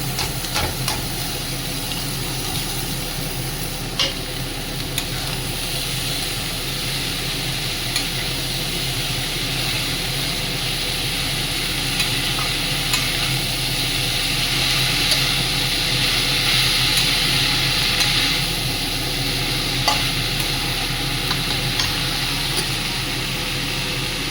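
Banana flower goes into hot oil with chillies in a pan, giving a continuous even sizzle and hiss over a long stretch, with occasional light stirring taps and no talking.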